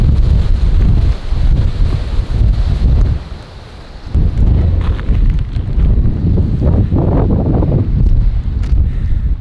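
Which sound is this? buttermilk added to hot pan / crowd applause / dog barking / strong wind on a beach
strong wind on a beach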